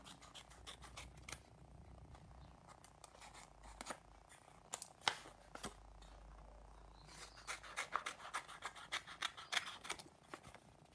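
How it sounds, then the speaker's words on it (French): Scissors snip through paper strips in a quiet room, a series of close, crisp cuts with short pauses between them and no talking. "Et nous allons découper les 4 bandes"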